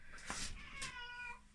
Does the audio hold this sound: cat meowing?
yes